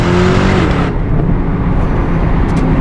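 Aston Martin DBX twin-turbo engine running close by, a loud, steady mechanical roar that lightens slightly partway through, with no talk over it.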